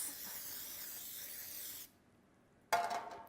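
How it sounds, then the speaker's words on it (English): Baker's Joy baking spray hisses steadily into a baking pan for a long burst, stops briefly, then sprays again in a shorter burst, close and clear with no talk. "we're taking our Baker's Joy and we're going to spray our pan"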